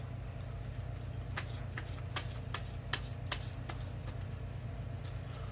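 Tarot cards are shuffled and drawn by hand: quick papery riffles and soft slaps, close and crisp over a steady low hum, with no talking.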